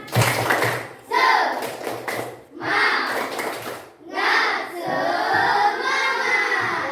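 A classroom of children doing a rhythmic spirit clap, with bursts of clapping and thumping in short patterned rounds and children's voices between them.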